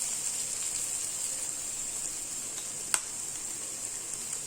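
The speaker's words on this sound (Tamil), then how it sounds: "இப்போ இதில் நம்ம முட்டையை உடச்சி ஊற்றிடலாம்." Beaten eggs poured into a hot pan of sautéed onions while making egg Maggi noodles, giving a steady, even sizzle with one brief pop partway through.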